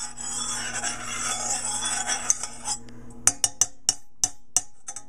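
A utensil stirs and scrapes a melting herbal lotion bar mixture in a pot, a continuous rasping scrape that gives way to a series of sharp metallic taps and clinks on the rim.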